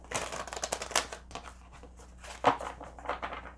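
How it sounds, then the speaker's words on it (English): Tarot cards are riffled and shuffled by hand in a quick series of crisp, close papery flicks, with a stronger burst near the end. "One more shuffle."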